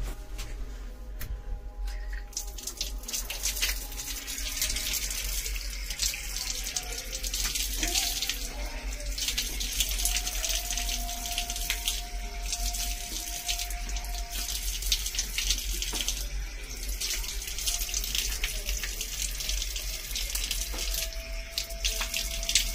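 Tap water runs steadily into a sink as someone washes their face after waking, a continuous close splashing flow with little else heard.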